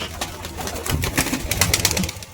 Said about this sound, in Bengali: এই যে অ্যাভেলেবেল পায়রা, সব সেলের জন্য দেখানো হচ্ছে।